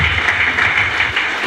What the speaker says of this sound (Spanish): Un aplauso, por favor, para nuestro delegado de Zagarpa.